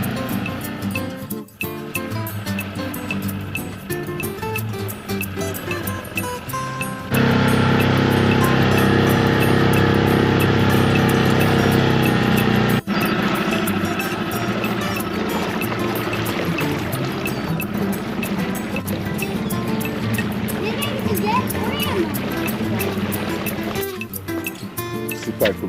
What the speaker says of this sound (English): driving the dinghy